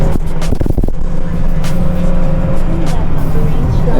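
A car accelerating on a road during a pre-purchase test drive, its engine note rising steadily and loudly up close with road rumble and a few knocks.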